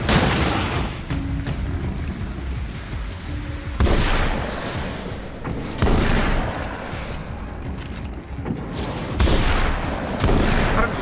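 Gunfire and booming blasts from the flare gun and other weapons in the video game Alan Wake American Nightmare: loud, repeated heavy bursts every couple of seconds over a constant rumbling game backdrop.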